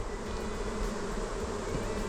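A steady insect buzz of honeybees flying back to a hive fills the whole stretch, a dense continuous drone at moderate level with no voices.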